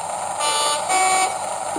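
Two-tone low-then-high horn from a Bachmann Class 37 model diesel locomotive with TTS sound decoder, played through a small speaker: a steady toot of about a second in two successive pitches, alone with no talk.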